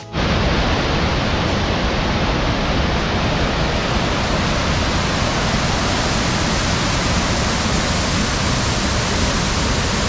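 The Fanes waterfall in the Dolomites, a steady, loud, broadband roar of falling water that holds unbroken throughout with no voices.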